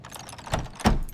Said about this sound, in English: I am trying the master keys now.